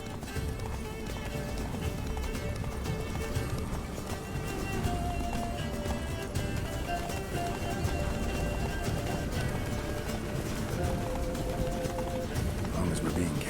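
Roach, Geralt's horse in The Witcher 3, gallops hard in a continuous loud pounding of hooves, with ambient music and game noise running underneath throughout.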